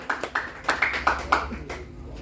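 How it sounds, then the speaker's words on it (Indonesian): An audience gives brief, light applause at an Indonesian blind association's zakat collection and iftar gathering, a short run of uneven clapping at moderate distance. "Tepuk tangan untuk kita semua."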